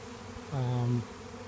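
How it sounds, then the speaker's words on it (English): Honey bees swarming over squash plants in a Maryland garden in May give a brief, loud, steady buzz close by for about half a second, with a low hum underneath, alone without talk. "There's a bunch of bees all over my squash."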